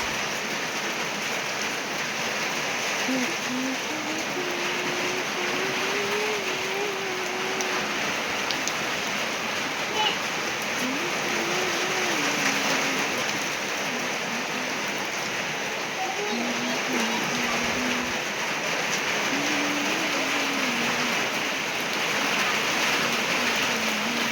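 Heavy rain driven by strong wind in Buldhana district: a dense, steady roar of rainfall with no break, and a faint voice murmuring underneath.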